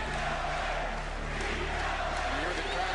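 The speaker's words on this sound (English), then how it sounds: "From the Boston crowd comes a ceaseless pounding chant." Boston Garden basketball crowd roaring in a dense, continuous wall of massed voices, loud and steady throughout with no clear breaks.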